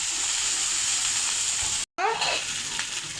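Eggplant, green chilies, shrimp and chopped tomato fry in oil in a pan, giving a loud, steady sizzle that cuts out for a moment and then resumes with fresh hissing and bubbling.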